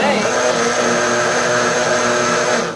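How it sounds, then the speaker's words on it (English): A small blender whirs steadily while pulping paper for handmade paper, a loud continuous motor drone with a dense churning texture that holds level throughout. "That's one thing I like about this little blender. It blends super fast versus a big one."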